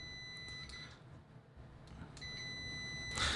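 A HONEYTEK HK78C budget multimeter sounds its continuity tester: a steady high electronic tone comes in short bursts, then a longer sustained beep, alone over quiet room noise.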